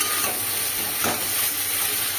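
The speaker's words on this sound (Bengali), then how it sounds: "এবার ভেন্ডিটা দিয়ে ভালো করে একটু নেড়ে চেড়ে নেব।" Okra and potatoes fry in a pan while being stirred, a loud, steady steamy hiss and sizzle with faint scraping pulses, no voices.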